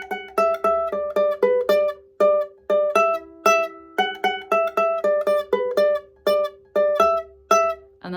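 Ukulele riff from a song, plucked as a bouncy sequence of clear, ringing notes with a steady pulse, repeating round and round with no talking.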